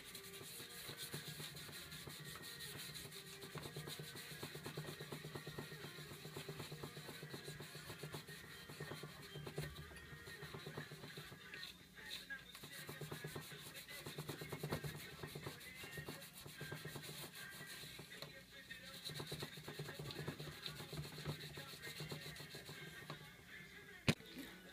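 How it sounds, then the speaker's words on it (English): A copper PCB board is scrubbed by hand with an abrasive pad, giving a steady, continuous rubbing and sanding rasp that runs close and even throughout with no talk. "So basically you just want to keep scrubbing the copper board until it's like super shiny."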